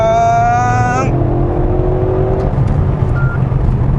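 Mercedes-AMG GLC 63 S Coupe with a 500-horsepower engine revs loudly and close, a rising engine tone that drops abruptly after a second into a steady deeper drone, heard under road noise inside the cabin.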